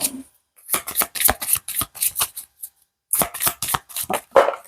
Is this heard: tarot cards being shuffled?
yes